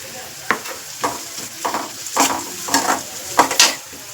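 Garlic paste sizzles and fries in a pan with onions as a spoon stirs it, the scraping strokes coming in short bursts about every half second over a steady crackle.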